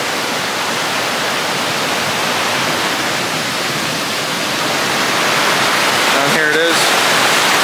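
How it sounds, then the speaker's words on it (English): Steady broadband rush of a waterfall heard close by, loud and continuous throughout, with a brief spoken remark near the end. "I'll show you the waterfall here quick"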